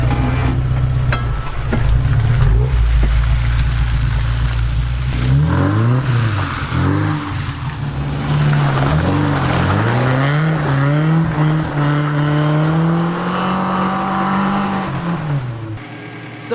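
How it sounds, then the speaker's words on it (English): A two-wheel drive truck with a Lock-Right locking rear differential climbing a slippery muddy hillside, the engine roaring and revving in rising and falling surges with wheelspin, loud and close, no voices. "This is another little two-wheel drive test going up this hillside."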